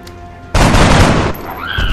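Gunfire in the strategy game XCOM Enemy Within: a sudden loud burst of shots erupts and sustains for most of a second, then decays into a ringing tail with a rising whine at the end.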